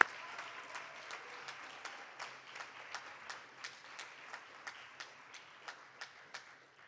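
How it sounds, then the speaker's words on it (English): Quiet applause at a graduation ceremony, with a scattered crowd clapping softly while one sharp, regular clapper stands out in a steady beat throughout. "one more round of applause for Mr."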